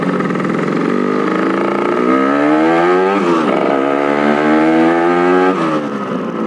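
A Yamaha RX-King two-stroke motorcycle engine revs up loud and close with a rising buzzy pitch, eases back, then climbs again before dropping to idle.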